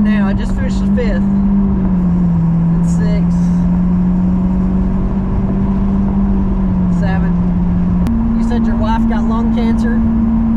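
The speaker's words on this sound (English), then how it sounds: "this is an Italian car, isn't it?" An Italian car cruising in fourth gear, a loud steady engine drone close up from inside the cabin that holds its pitch and then steps up slightly near the end, with people talking over it.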